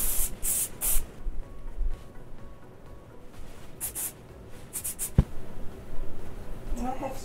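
Hairspray hisses from a can onto hair in several short bursts, close and sharp, separated by brief pauses and quieter handling noise.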